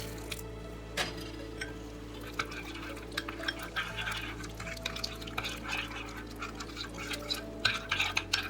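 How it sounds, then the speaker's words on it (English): Hot water pours into a cooking pot of rice and vegetables, a soft, continuous liquid stream with faint splashes, stirring and squishy movement, quiet and close. "And bring in the hot water."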